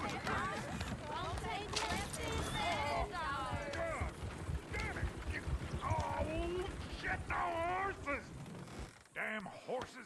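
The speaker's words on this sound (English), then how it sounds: "Damn horses!" Horses in Red Dead Redemption 2 clop and move busily amid game sound effects, while voices talk over them throughout.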